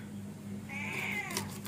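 A house cat gives a single drawn-out meow near a kitchen where fish is being cut, rising then falling over a low steady hum, with no talking.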